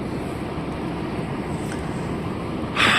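A truck pulling a trailer drives along a road in Poland, its engine a steady, low, rumbling drone mixed with road and wind noise, swelling louder in the final moment.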